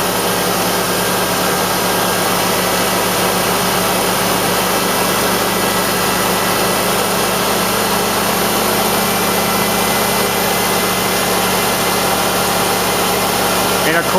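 A car engine held at raised RPM for an A/C pressure check hums steadily and loudly with a constant droning tone and vibration, unchanging throughout and with no voices heard.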